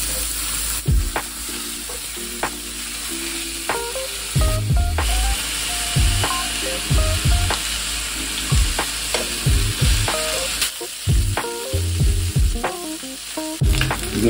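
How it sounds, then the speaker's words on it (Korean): Pork back ribs fry in oil in a large frying pan, a steady close sizzle with repeated scraping and stirring knocks and clatters throughout. "지금 색깔이 나올 때까지 구워주시면 돼요"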